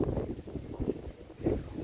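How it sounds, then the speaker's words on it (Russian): Wind blowing outdoors by the river, buffeting the microphone in faint, uneven low gusts with no other clear sounds. "такой ветер дует"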